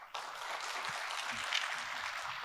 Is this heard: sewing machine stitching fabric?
no